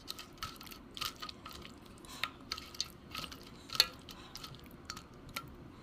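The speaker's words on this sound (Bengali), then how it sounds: "এবার এই যে মাছগুলো আমি এতে সব মেখে নেব।" Pieces of bata fish are mixed by hand in a thinned batter, making irregular wet squishes and small clicking squelches close by.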